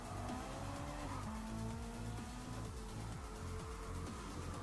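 Race cars roar together in the Gran Turismo 7 racing game, engines droning and shifting pitch with bursts of tire squeal and skidding, a dense, continuous, loud wash of engine noise with no talking.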